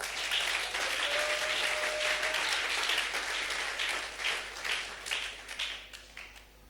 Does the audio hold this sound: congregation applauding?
yes